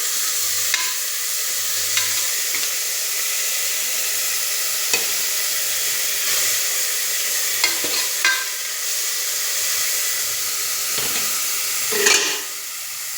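Crushed small shallots frying in hot oil in a pan, a steady close sizzle with a few light clicks and scrapes of stirring, no voices.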